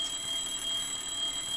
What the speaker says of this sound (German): Eine Alarmanlage.